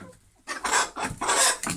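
Chickens clucking in a henhouse during rain, a quick series of close, sharp clucks and squawks after a brief quiet moment.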